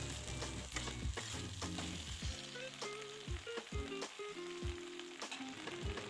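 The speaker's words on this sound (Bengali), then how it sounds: "ওটা দিয়ে আবার পুরোটা একটু নেড়ে চেড়ে নেব" Chili chicken being stirred in a sizzling pan after a cornflour and water slurry is added, with a steady loud frying hiss and repeated scraping strokes of a spatula against the pan, no talking.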